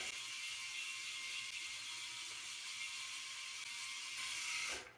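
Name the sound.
electric shaver running, Philips Norelco 9800 or Panasonic ARC 5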